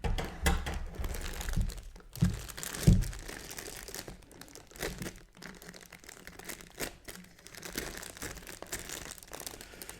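Sealed plastic packaging of a Toucan lamp, 50th anniversary edition, being cut open: close, steady crinkling and crunching of plastic with a couple of sharper snaps around the early seconds.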